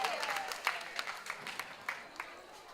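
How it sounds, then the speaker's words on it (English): Scattered, fairly faint applause from an audience at a national performing arts festival drum competition, after a girls' high school drum ensemble. Individual claps stand out in an uneven rhythm over a thin crowd wash. "Clap the ladies them once more."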